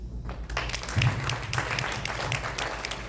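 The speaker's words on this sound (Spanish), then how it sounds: "démosle un fuerte aplauso al Señor" A church congregation applauding steadily for about three seconds, dense clapping with some voices mixed in, fairly close and loud.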